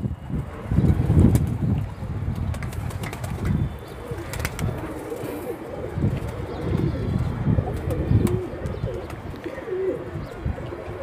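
Pigeons coo softly and repeatedly at close range, mixed with wind buffeting the microphone and scattered rustling, with no one speaking.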